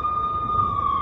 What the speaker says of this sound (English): The NYPD was closing in. I could hear the sirens.